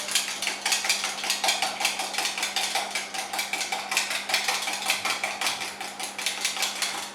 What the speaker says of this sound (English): we give this a good whisk